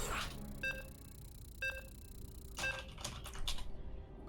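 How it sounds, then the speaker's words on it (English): Computer keyboard typing during a StarCraft 2 tournament broadcast, heard as three short bursts of clicky keystrokes spaced about a second apart, then a busier flurry of taps near the end, close and fairly quiet. "Definitely not typing random things into the keyboard to keep up appearances."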